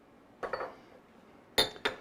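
A cocktail glass for a Manhattan is handled and set down, giving three sharp glassy clinks, one early and two close together near the end, over a quiet room.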